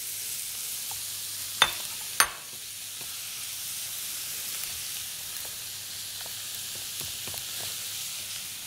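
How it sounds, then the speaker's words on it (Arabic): Minced meat frying in a pan with onions, a steady soft sizzle throughout, with two sharp scraping knocks of a stirring utensil early on and faint taps afterwards, and no talking. "هكذا نحلو كامل هذا اللحم المفروم ولا هذا لافيونداشي، نحلوها مليح في البصل"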